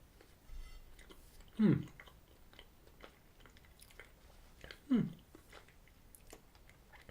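Chewing a Mr Kipling Frosty Fancies iced cake with fondant icing, two short, fairly close bites or crunchy chews spaced a few seconds apart over quiet background.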